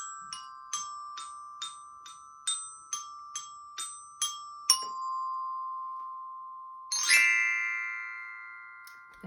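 Handbells ring out the melody of Mary Had a Little Lamb, a steady run of bright struck tones each decaying into a sustained hum, ending with a final louder chord that rings on.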